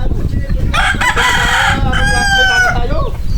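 A rooster crows loudly nearby, twice in quick succession, with hens clucking underneath as they are fed and steady background noise.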